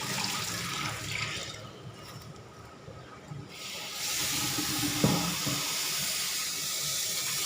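Water splashing and running while vegetables are washed, steady and close, the hiss of flowing water strengthening in the second half, with a brief clunk near the end and no talking.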